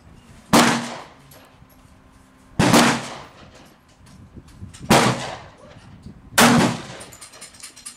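Four loud, sharp .45 ACP pistol shots fired over a Caldwell chronograph at an outdoor shoot, spaced about two seconds apart, each a sudden broadband crack with a short ringing decay.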